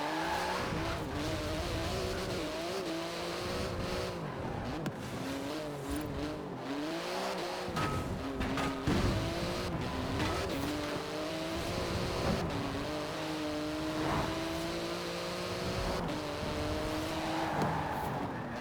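A Porsche GT2 RS in Forza Horizon 4 roars steadily at high revs, its engine note climbing and shifting through gears with some tire noise, loud and continuous without talk.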